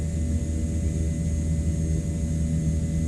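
Turboprop engines of a CL-415 water bomber in Microsoft Flight Simulator 2024, a steady loud drone with tonal whine and dense low rumble, continuous and close throughout without talk.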